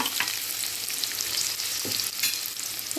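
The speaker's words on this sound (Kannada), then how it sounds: "ಸ್ವಲ್ಪ ಫ್ರೈ ಆದರೆ ಸಾಕು. ಸ್ವಲ್ಪ ಸಾಟಿ ಹಾಕಬೇಕು ಅಷ್ಟೇ." Onion frying in a pan for tomato bath, a steady close hiss and crackle of sizzling oil with no talk.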